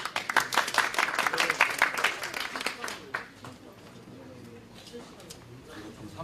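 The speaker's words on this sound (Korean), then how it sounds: "그러면 위스캔의 이태호 대표님을 박수로 맞아주시기 바랍니다." Audience applause greets the Wiscan CEO as he comes up at an Open Up event, dense clapping for about three seconds, then fading into scattered claps and room murmur.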